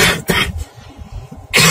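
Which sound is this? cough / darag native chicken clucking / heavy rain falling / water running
cough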